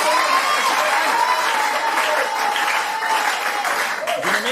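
A crowd at a youth church service in Kananga applauds and cheers loudly and continuously, dense clapping with raised voices throughout.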